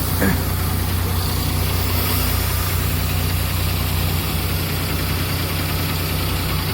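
A vehicle engine idles steadily throughout with a constant low rumble, heard from inside while parked on a lakeside embankment path, with no talk over it.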